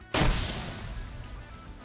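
A single sharp, loud gunshot cracks out near the start of a competitive video game match, followed by a decaying echo and low rumbling battle ambience with no talk.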